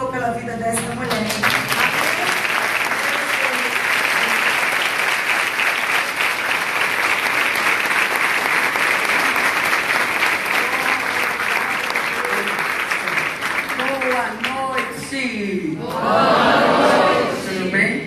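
A church congregation at a deliverance service claps loudly and continuously for a long stretch, with scattered shouts and voices rising near the end.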